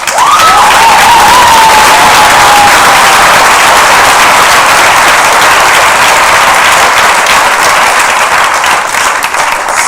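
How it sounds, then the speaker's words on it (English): Loud, sustained applause at an IB graduation ceremony, dense clapping filling the whole stretch at an even level, with a brief tone sounding near the start. "Can we have a round of applause?"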